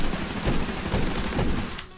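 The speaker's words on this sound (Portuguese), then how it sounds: "Shotgun, velho." Rapid shotgun fire in the Roblox game Energy Assault, a dense burst of overlapping blasts and booms that runs nearly continuously for about two seconds, loud and close.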